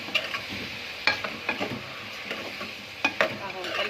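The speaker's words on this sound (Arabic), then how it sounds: "هننزل بقى بالرز بتاعنا كده على العدس وعلى الشعريه، نديله تقليبه كده على بعضه" A spoon stirs rice with lentils and vermicelli in a pot, giving soft scraping strokes and light clinks over a low, steady sizzle. It is close and moderately loud, with no talking.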